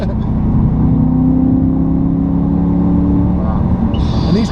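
A supercharged BMW M3 E92 engine pulls hard under acceleration, a loud steady drone with rising pitch that holds close and continuous throughout, with brief chatter near the end.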